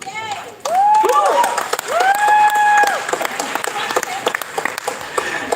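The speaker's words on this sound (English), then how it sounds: "another round of applause, please, for our director and cast" An audience applauds the director and cast, with dense clapping building in the latter half while a voice speaks over the start.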